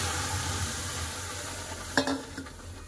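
Boiled mung dal going into a hot pan where vegetables have been frying, a steady low sizzle followed by a sudden splashy burst and a short flare of crackling, fairly close and without talk.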